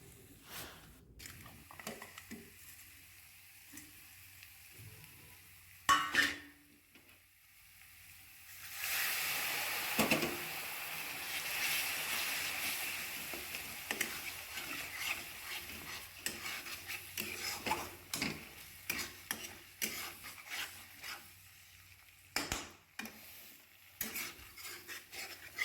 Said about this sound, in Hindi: अब इसमें डालूंगी गरम मसाला, धनिया पाउडर और हल्दी पाउडर डाल के अच्छी तरह से पकाऊंगी मसाले को।